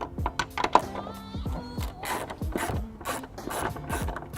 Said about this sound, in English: I'll be using my 10mm to remove the nut off of the tail light.